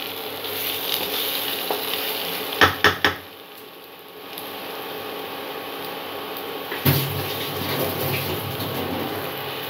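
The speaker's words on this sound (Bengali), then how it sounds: "এটা আরেকটু কষানো হবে, ভালো করে কষিয়ে এটা থেকে যখন তেল ছেড়ে আসবে" Ginger, garlic, onion and tomato masala sautéing in a pan for an egg-bora curry, a steady soft sizzle with a few sharp utensil clacks near the middle and a brief lid or pot knock later.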